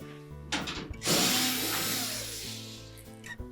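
A power screwdriver backs a screw out of the cabinet of a Whirlpool washer during a spinner support and seal repair, a loud close whirring burst that starts after a second and runs steadily before tapering off.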